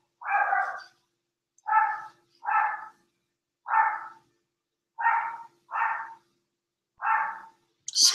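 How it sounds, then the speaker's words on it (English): A dog barks about eight times in short, evenly spaced, fairly loud barks close by, with silence between them and no talking. "Excuse my dog."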